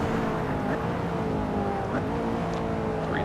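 A McLaren P1 racing in Assetto Corsa, its engine a loud, continuous droning roar with pitch sweeps through downshifts and throttle changes, heard close and without talk.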